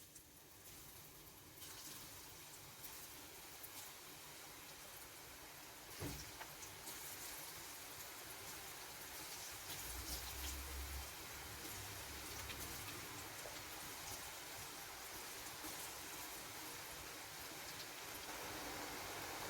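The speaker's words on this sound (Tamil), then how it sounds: "நம்ம இப்போ மேக்னேட் பண்ணி வச்சுருந்த கிழங்கு எல்லாத்தையும் ஒன்றா போட்டு ஃப்ரை பண்ணிக்கலாம்." Marinated yam pieces sizzle in hot oil, a steady dense crackle and hiss that stays loud throughout, with a short clatter around the middle and a low rumble later.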